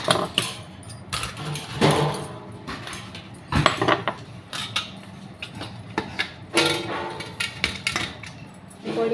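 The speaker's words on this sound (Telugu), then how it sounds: "కోడి కోస్తున్నాను" A whole chicken is chopped into pieces with a knife, giving sharp irregular chops and thuds on a hard surface mixed with clinks and rustles, close and moderately loud, with occasional talk in between.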